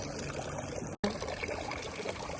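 Steady water splashing and pouring from a drinking fountain in a Swiss city, a continuous rushing trickle close by, briefly cut off for an instant midway.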